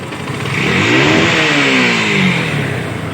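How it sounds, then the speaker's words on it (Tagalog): A Bajaj Pulsar NS150 motorcycle engine, recently rebuilt with mostly new parts but still out of tune, revs hard close by, its pitch rising and falling in one sustained surge, with no talking. "Ngayon oh, galit na yung makina. Birit natin."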